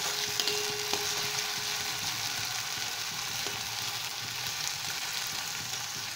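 Tomatoes being stirred in a hot pan for tomato masoor dal, a steady close sizzle and fry with a few faint scrapes and knocks from the spoon, no talking.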